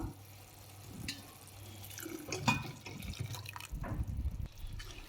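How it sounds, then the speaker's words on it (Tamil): Coconut milk poured into a fenugreek leaf curry makes a faint liquid pour and splashing, with soft clinks of a utensil against the pot, quiet and close. "இப்போ நம்ம இந்த தேங்காய் பால் இதில் ஊற்றிக்கலாம்"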